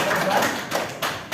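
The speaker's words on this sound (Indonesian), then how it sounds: "Ya, kita beri tepuk tangan dulu." Students in a classroom clap in a short burst of several sharp claps that stop within about a second.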